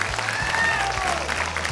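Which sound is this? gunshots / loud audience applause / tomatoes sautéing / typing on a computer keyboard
loud audience applause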